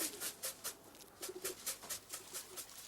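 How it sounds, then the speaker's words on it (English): Pigeons cooing and fluttering as they come down for grain, a quiet run of soft rhythmic coos and wingbeat-like pulses, fairly close, with no talk. "When it's time for the pigeons to come down, Jim rattles a corn tin."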